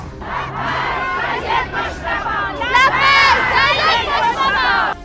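A large angry crowd at a funeral procession in Iran chants and shouts together, a loud, dense roar of many voices that swells throughout.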